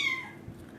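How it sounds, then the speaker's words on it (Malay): A cat gives a single short, faint meow indoors, fading quickly into quiet room tone with no talking over it. "Tu suara kucing tu"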